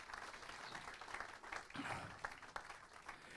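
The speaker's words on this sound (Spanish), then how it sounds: "Dale un aplauso de gratitud al Señor" A church congregation gives a brief round of applause of thanks to God during a Thanksgiving service, a soft, fairly distant patter of many hands clapping.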